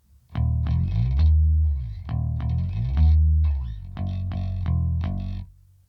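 Electric bass guitar riff turnaround in four groups of sliding, repeated notes, chorused and lightly overdriven, played solo and close before decaying to silence.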